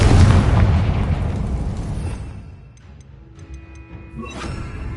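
A Confringo blasting spell explodes in the Hogwarts video game, a loud booming blast with a long rumbling tail that fades out, followed by faint tonal game effects.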